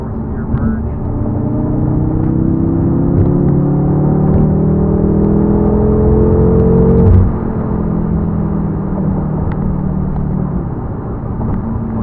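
Fourth-gear merge in a 2016 BMW M5 with a Dinan tune: a loud, sustained engine roar with rising pitch as it accelerates hard, peaking briefly around the shift before settling into steady road rumble.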